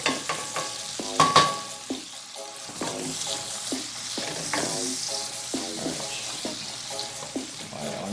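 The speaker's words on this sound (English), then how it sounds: "Alright, my onions, they're sauteed, they're ready with the garlic." Onions and garlic sizzle and fry in a pan, with repeated stirring scrapes and taps at a steady rhythm, fairly close and alone.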